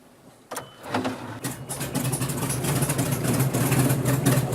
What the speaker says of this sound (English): fire up her roaring radial engines